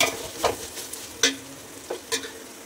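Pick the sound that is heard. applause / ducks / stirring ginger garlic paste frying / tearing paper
stirring ginger garlic paste frying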